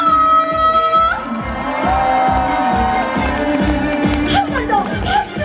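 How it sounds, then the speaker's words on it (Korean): Outdoor crowd at a traditional market song festival in Goesan claps in a steady beat and cheers over loud trot music with a sustained melody line. "한번더 박수와 함성!"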